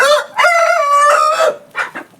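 Laying hens clucking close by while resting in a cool, shady spot, a few drawn-out calls in quick succession with a short pause before the last one. No voices.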